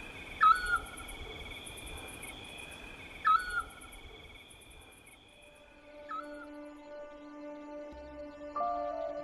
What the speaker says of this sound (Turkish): İshak kuşu öttü.